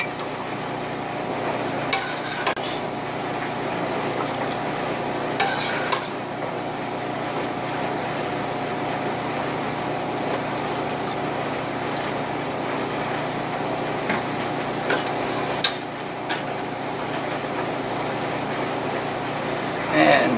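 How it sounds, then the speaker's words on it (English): A spoon stirs a no-sugar grape jelly mixture in a pot with steady scraping and swishing, joined by a faint background hiss and a few louder clinks against the pot. "Give this one last stir."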